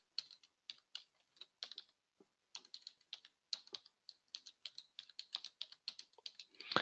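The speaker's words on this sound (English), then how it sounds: "And I'm just typing it up again." Rapid, irregular clicking of keys on a computer keyboard, quiet and close, in short bursts with brief pauses between words.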